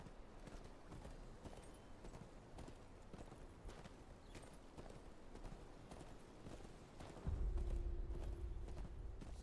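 Horse hooves clip-clop steadily in the Game of Thrones: Kingroad video game, a rhythmic walking gait under light background ambience, with a louder low rumble joining near the end.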